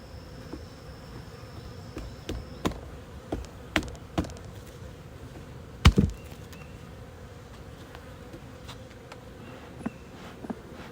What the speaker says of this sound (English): I hear bees. Oh, I hear bees.